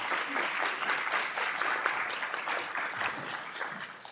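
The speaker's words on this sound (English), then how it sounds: "Please give them a round of applause." An audience at a Seattle library training event claps in sustained, steady applause, dense and fairly close, fading slightly toward the end.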